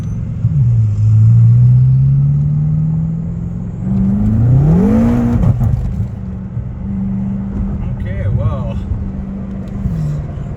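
A BMW F10 M5 with methanol injection running a second gear pull to 7000 rpm on a dyno, the engine note sweeping up fast in pitch and loudness, then dropping back to a steady rumble, with talk over parts.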